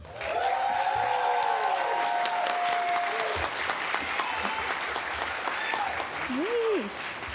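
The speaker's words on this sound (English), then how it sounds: "give us graduates a well-deserved round of applause" Graduation hooding ceremony audience applauds the graduates with sustained clapping for about seven seconds, with faint tonal sounds and a brief voice rising near the end.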